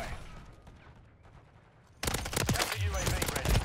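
MTZ 556 rifle fire in Call of Duty MW3: after two seconds of quieter background, a loud, dense burst of rapid automatic shots runs to the end.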